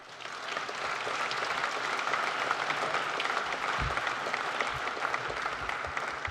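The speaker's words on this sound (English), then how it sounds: "I'd just like to offer one more round of applause to the panel" Sustained applause from a conference audience for a panel discussion, dense and steady clapping filling several seconds with no talking over it.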